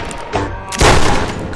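Gunfire in Garry's Mod, a loud burst of rapid shots followed by a heavier, sustained blast of volleys, close and harsh with no talking over it.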